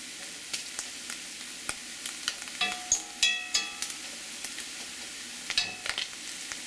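Corn fries in a hot pan, sending up a faint steady sizzle scattered with sharp pops and crackles, some landing in quick clusters, heard close with no voices.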